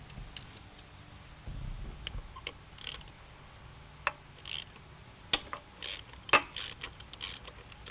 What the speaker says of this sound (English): I always like to break them loose with a ratchet